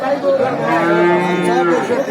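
A bovine lows at a cattle haat in Talgachhi, Sirajganj: one long, steady moo sounds near and loud, rising slightly at the start and trailing off at the end.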